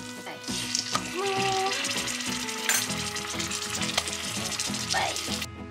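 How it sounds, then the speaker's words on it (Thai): A pot of Thai braised egg stew bubbles and sizzles steadily up close, with small clinks and tapping sounds scattered throughout and no clear speech. "นี่คือน้องเดือดแล้วกว่าจะเดือดก็นานมาก"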